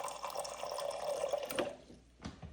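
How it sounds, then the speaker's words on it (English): Water poured into the reservoir of a Breville espresso maker, a steady soft trickle that runs for about a second and a half, then stops, followed by one faint knock. "Pour the water in."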